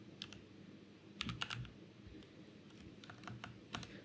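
Keystrokes on a computer keyboard while writing Python code, arriving in short scattered bursts of quick clicks over a faint background hiss, with gaps of quiet between clusters.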